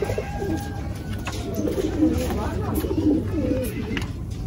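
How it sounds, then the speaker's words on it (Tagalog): Soft, low racing pigeon coos repeat in a steady rolling rhythm, close by, over a constant noisy background hum. "Ito yung mga ibon na pang summer race."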